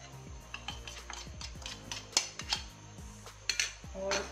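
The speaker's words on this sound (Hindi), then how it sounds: "अब इसमें हम आधा कप दही डालेंगे" Half a cup of yogurt goes into a pot of chicken white korma, heard as a run of light metal spoon clinks and taps against the pot, with brief scrapes spaced irregularly, close and fairly quiet.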